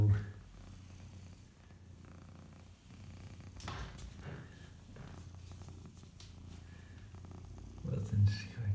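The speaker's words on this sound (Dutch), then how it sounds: "We hebben een nieuw katje." A new kitten purrs steadily and softly up close, a continuous low rumble lasting throughout, with a human voice murmuring faintly in the background.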